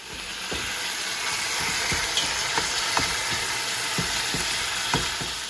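Steak searing in a hot pan, a steady loud sizzle with scattered sharp pops and crackles throughout, no voices.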